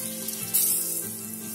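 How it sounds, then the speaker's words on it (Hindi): Chana dal and tamarind roast in a hot pan with a steady, close sizzle that swells briefly partway through. "चना दाल हल्का रोस्ट हो गया है, इसमें इमली डालें"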